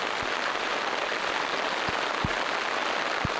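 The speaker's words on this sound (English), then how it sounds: "Looks like it's not gonna stop raining." Steady rain falls on a tarp over an outdoor workshop, a dense, constant hiss with a few soft, louder drops landing now and then.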